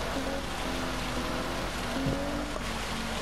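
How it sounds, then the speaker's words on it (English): Steady rain falls on a wet racetrack, a dense even hiss that runs unbroken from start to finish. Faint engine tones rise and fall underneath it. "And it doesn't look like the rain's stopping"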